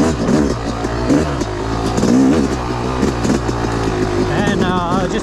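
A Yamaha YZ 250 dirt bike in woods trim revs hard in rising and falling bursts, its loud engine note sweeping up and down close by and filling the whole stretch.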